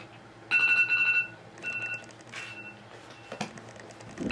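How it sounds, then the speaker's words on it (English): A timer alarm going off indoors, sharp repeated electronic beeps in short bursts with brief gaps, close and moderately loud, no talking. "the timer is gone off"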